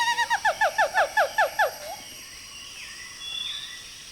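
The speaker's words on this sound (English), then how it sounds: "Gibbons sing to claim territory or as an invitation to mates." Gibbons sing in a rainforest, a series of about ten rising, hooting whoops in quick rhythm, followed by fainter distant calls and background forest hum.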